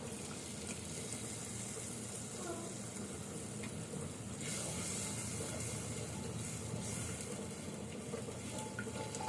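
Water poured into spices frying in a pan for a North Bengal style fish dish, giving a steady close sizzle and watery splash with a brighter, louder burst midway, continuous throughout.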